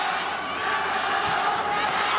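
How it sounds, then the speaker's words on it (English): A kickboxing arena crowd roars and cheers continuously in a dense, steady wash of voices during a bout, loud and close throughout. "The crowd starting to cheer for Masato in centering as he thrusts out the jab."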